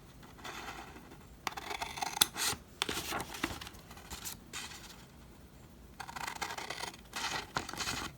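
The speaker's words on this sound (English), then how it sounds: "And then go back down here and cut out this block." Scissors snipping through a paper block during a slimline card and box envelope craft: quiet, close cutting strokes come in short bursts separated by pauses, with light paper rustle and no talk.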